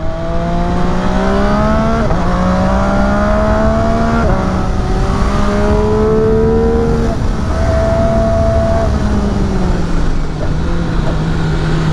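An MV Agusta F3 800 RR sport motorcycle engine pulls hard from close by, its rising whine climbing steadily through several gears with brief dips at each shift, loud and continuous.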